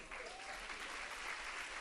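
An audience applauds at a church worship program, a dense, even wash of clapping sustained throughout, fairly distant and soft in level with no talk over it.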